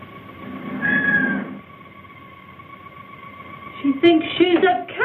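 A woman meows like a cat, voice imitating the animal in two drawn-out mewing calls: one long wail early, then a rising, broken series of meows after a quiet pause, close and fairly loud.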